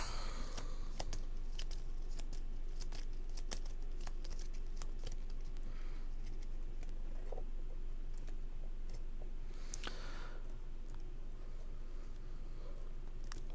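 A deck of playing cards for a Lord of the Rings card game is shuffled by hand, giving quiet, close riffling and snapping bursts in an irregular rhythm with no talk.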